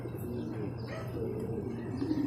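Racing pigeons arrive home after truck training in Guiguinto, Bulacan, cooing and chirping steadily in a close flock under faint outdoor background noise.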